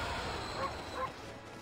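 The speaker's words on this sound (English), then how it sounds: "Bark." A dog in the video game Okami gives a short bark, over a brief, steady hum of game sound.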